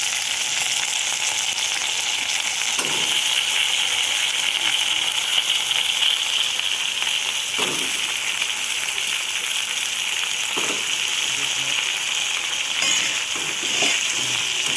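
Potatoes and onions frying in a pan, a loud continuous sizzle with occasional stirring scrapes throughout, no voices.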